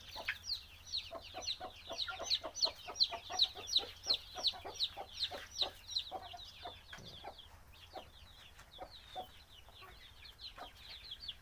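Chickens cluck in a quick, steady run of sharp calls that slows into scattered, softer clucks toward the end.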